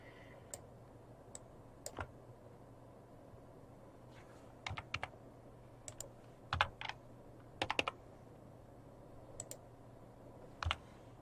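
Computer keyboard keys pressed during video editing work, scattered clicks and short bursts of tapping spread across the clip, close but fairly quiet over a steady background hum.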